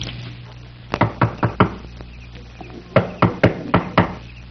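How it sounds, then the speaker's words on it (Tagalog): Someone knocks on a door at night, two bursts of about four sharp, close knocks each separated by a short pause, loud against a quiet background with no talk. "Gabing-gabi, katok ng katok."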